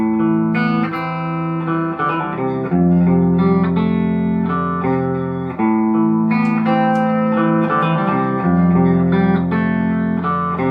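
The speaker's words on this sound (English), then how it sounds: "And clean sound on the bridge pickup." Electric guitar played with a clean tone on the bridge pickup, sustained chords and melodic notes in a loose rhythm, bright and close, alone without talk.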